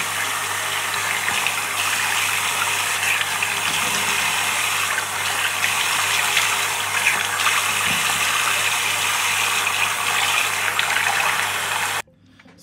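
Water runs steadily from a tap in a bathroom for face rinsing, a continuous close splashing gush lasting about twelve seconds before cutting off abruptly.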